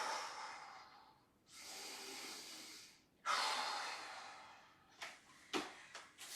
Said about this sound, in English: Back to those big exhales.